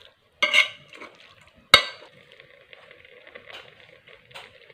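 A spoon stirs a potato and radish-pod dish in a pan after lemon is squeezed in, with two sharp metallic knocks against the pan followed by soft scraping and a light sizzle; no voices.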